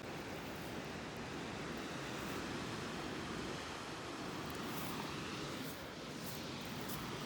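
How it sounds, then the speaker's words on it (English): Steady broadband rushing of a waterfall beside a river trail in the Rockies, a constant wash of falling water heard alone without voices. "Well, there's a waterfall that few people see."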